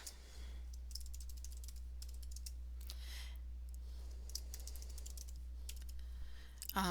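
Someone types a password on a computer keyboard nearby, with quick bursts of light key clicks separated by short pauses over a steady low electrical hum, and nobody talks.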